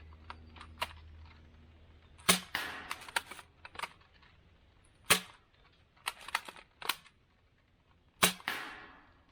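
Airsoft rifle shots fired through a T238 RGB tracer unit, a handful of sharp, separate cracks spaced a few seconds apart, with small clicks and handling noises between them and no talking.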